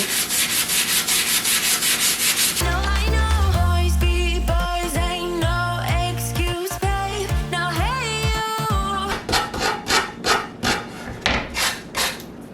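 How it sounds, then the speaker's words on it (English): Steady, rhythmic rubbing and scraping from sandpaper on a wooden kitchen piece being sanded on both sides, close and fairly loud, with a short burst of other noise mixed in midway. "I am sanding both sides of this"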